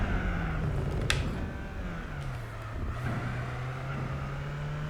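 A front-engine, front-drive car in Gran Turismo 4 drones steadily with a continuous engine hum, its pitch dipping and then holding level, with no talk.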